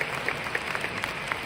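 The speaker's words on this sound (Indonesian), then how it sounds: "Kita pantas beri tepuk tangan meriah untuk Anda semuanya." Applause from an audience at a business seminar, a fairly steady patter of clapping with a few sharper claps standing out, at moderate distance with no talk over it.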